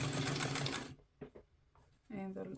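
A sewing machine back stitches along a two-piece collar in a quick, loud burst lasting under a second, then stops; a few faint handling sounds follow before a person starts talking.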